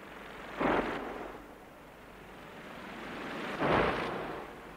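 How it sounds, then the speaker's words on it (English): Synthesized roaring sea waves from a Wersi Arcus CD45 organ: two big surges of rushing noise, like waves crashing, each swelling and fading into a softer steady wash between them. "how about the sound of the South Seas, with the roaring sea?"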